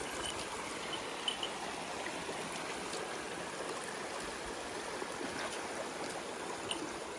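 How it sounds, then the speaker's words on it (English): A creek spills over a small dam near a riverside campsite, making a steady, soft rush of flowing water with faint trickles and splashes throughout. "there's a couple little footpaths that come to different little parts of the creek. This one's got a nice little dam."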